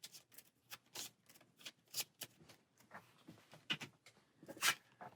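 Deck of game cards for the Aeons End: Into the Wild board game being shuffled by hand, a run of quick riffling bursts repeating over several seconds, close and crisp with no talking.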